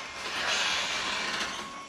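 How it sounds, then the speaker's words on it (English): A garage door closes in a rented house, a faint rattling mechanical rumble with clicking running through the brief stretch, heard alone. "there's a garage door closing."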